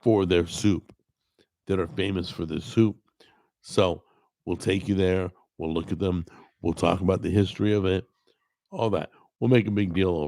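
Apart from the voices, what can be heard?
No everyday noise stands out behind the speech.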